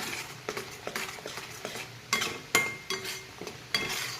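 Masala for a paneer dish fries in oil in a pan, with a steady low sizzle broken by repeated scraping strokes of a spoon stirring through the mixture, close and fairly quiet, no voices.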